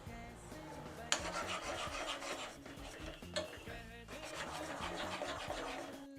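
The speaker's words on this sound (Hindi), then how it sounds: "उसमें हम अब ऊपर से चीज़ को ग्रेट करके डालेंगे" Cheese is grated over a vegetable gravy for herbed rice in a creamy sauce, producing close, quiet rhythmic rasping strokes in a steady back-and-forth run.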